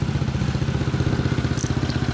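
A worn Yamaha Cygnus-X scooter engine idles close by with a steady low, even pulsing throb and no voices.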